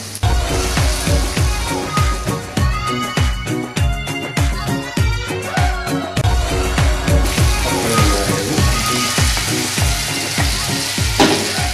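Onions and curry leaves fry in a pan for pepper chicken, a steady loud sizzle with crackling bursts and occasional stirring scrapes throughout, no voices.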